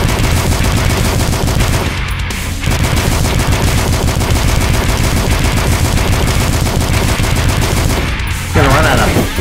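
Continuous rapid gunfire from the video game DUSK rattles loudly and almost without break, with two brief dips where the shooting stutters before resuming.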